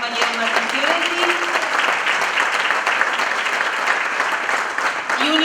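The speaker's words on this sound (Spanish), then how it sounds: "Recibimos con un fuerte aplauso" An audience at a Buenos Aires labour congress cultural panel bursts into sustained, dense applause that fills the room, with a speaker's voice briefly audible at the start and end.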